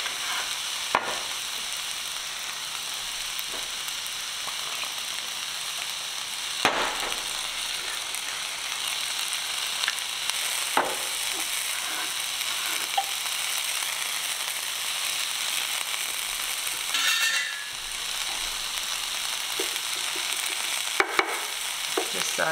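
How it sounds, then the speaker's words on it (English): Garlic sautéing in a pan, an even, continuous hiss of frying with a few sparse stirring knocks and scrapes scattered across the stretch. "Saute for like a minute or two."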